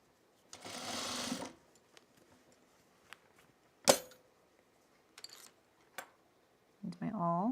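A sewing machine tacks jeans at the waist in short bursts of rapid stitching, separated by clicks and handling noises, with a brief voice near the end.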